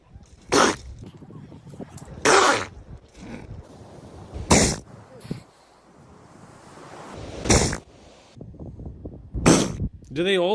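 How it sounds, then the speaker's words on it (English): A seal sneezes repeatedly, about five sharp, explosive bursts spaced a second or two apart, standing out from a low rumbling background. "This is what a seal sneeze sounds like."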